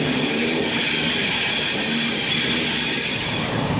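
Two Avadh Assam Express trains crossing on parallel tracks, a loud, steady roar of rolling wagons and wheels with faint squeal, close by and continuous throughout.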